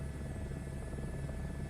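An A-Star helicopter in a flight simulator game makes a faint, constant engine and rotor drone that stays steady through the short stretch, with no voices.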